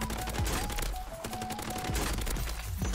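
A Holger 26 light machine gun in Warzone on Rebirth Island fires in long rapid bursts, a dense rattle of shots with short gaps, loud and close amid game sound.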